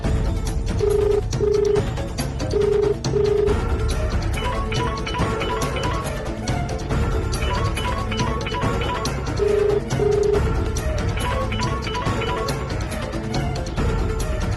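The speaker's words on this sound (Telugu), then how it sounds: "ఒకసారి ఫోన్ ఇవ్వండి, ఫోన్ చేస్తాను." A telephone call rings out unanswered, heard as a few pairs of short, steady double ring tones with gaps between them, set under a dense, continuous background score.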